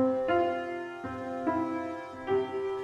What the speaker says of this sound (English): And for example, with this Cambridge Legion piano preset,